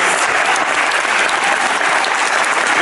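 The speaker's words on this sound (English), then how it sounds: "give Sam and I a big round of applause" A talk show audience fills the room with dense, loud, continuous applause, steady and unbroken from start to finish.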